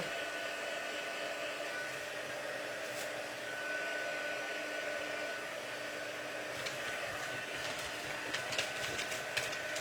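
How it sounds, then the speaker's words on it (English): A heat tool blows a continuous whooshing roar while warming glue on a paper greeting card made with patterned paper, steady and close for about ten seconds, with light tapping and rustling near the end. "See, that heat tool gun works miracles sometimes"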